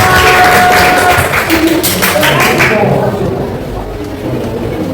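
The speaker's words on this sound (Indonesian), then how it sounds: "Tepuk tangan untuk kelompok satu." A burst of classroom applause for a student group, loud at first with dense clapping, then thinning and fading over the last couple of seconds.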